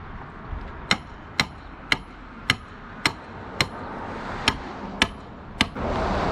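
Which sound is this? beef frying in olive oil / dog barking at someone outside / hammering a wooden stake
hammering a wooden stake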